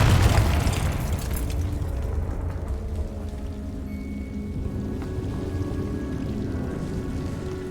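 A Confringo blasting spell from Hogwarts Legacy bursts in a loud, close boom, then a sustained crackling, rumbling roar that hisses like heavy rain and slowly tapers without fully fading.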